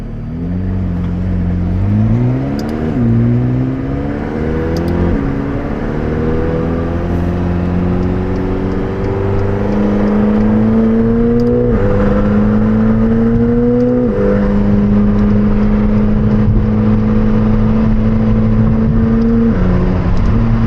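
A McLaren 720S Spider driving with the roof down, heard from inside as the engine revs climb repeatedly through several gear shifts, a loud continuous drone rising in pitch, with no talking.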